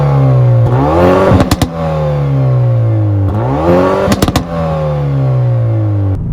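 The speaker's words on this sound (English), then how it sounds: "The engine now, or the exhaust I should say, is in full performance exhaust mode" Hyundai i30 Fastback N in full performance exhaust mode, revving hard through two rising pulls, each cut by a sharp gearshift crackle before the drone climbs again, loud and close.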